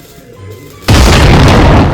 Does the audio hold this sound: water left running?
no